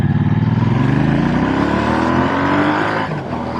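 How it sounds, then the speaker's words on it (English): Triumph Bonneville T120 motorcycle engine rumbling loudly and close as it accelerates on the road, the deep throbbing note climbing steadily in pitch before easing off near the end. "it's got a really good rumble to it"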